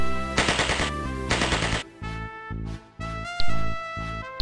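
Machine gun fire rings out in a Winter War video game as a bunker is cleared: two long, loud bursts of rapid shots, then a run of separate heavier bangs with echoing tails, with no talking.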